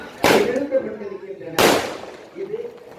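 Fireworks at a Hindu temple festival during a Soorasamharam celebration in Avadi, with two sharp, loud bursts about a second and a half apart, each followed by crackling and crowd noise underneath.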